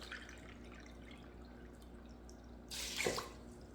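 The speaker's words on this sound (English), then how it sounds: "I'm going to add 4 cups of water" Water poured onto rinsed rice in a pressure cooker pot, a quiet trickle and faint dripping that swells into a brief louder splashing pour near the end, close and alone.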